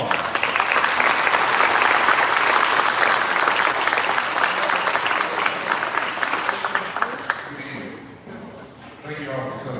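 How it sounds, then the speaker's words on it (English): Audience applause at an annual community briefing, loud sustained clapping from a crowd that thins and fades toward the end, with a voice faintly audible as it dies down. "Give him a round of applause."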